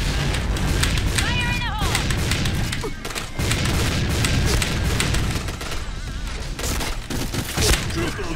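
Loud booms and bursts of grenade explosions and gunfire in a Point Blank video game crack through, mixed with a person talking over the chaotic, dense action.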